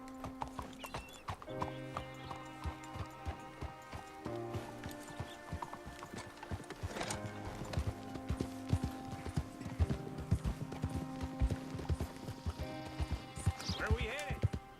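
Horse hooves clip-clop in a steady rhythm while riding in the video game Red Dead Redemption 2, close and continuous, with occasional whinnies and game sounds in the background.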